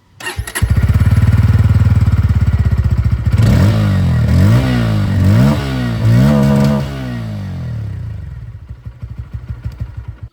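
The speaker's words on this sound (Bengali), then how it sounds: "তবে এটা ছিল N160-র আন্ডারবিলি এক্সস্টের আওয়াজ।" A Bajaj Pulsar N160 motorcycle with an underbelly exhaust starts and idles loudly, then revs up in several sharp bursts before settling back to a lumpy idle, close by.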